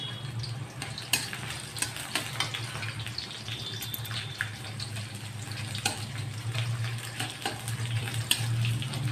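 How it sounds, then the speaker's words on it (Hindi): Sliced onion and bay leaves frying in hot oil, a continuous close sizzle and crackle with scattered sharp pops over a low steady hiss. "तापरे पियाज छाड़ी गोटा तेजपत्र दीटा"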